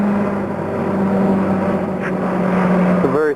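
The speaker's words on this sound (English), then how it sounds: "Plane coming in." Airplane coming in to land near a beach, a steady loud engine drone that holds throughout with a faint tonal hum underneath.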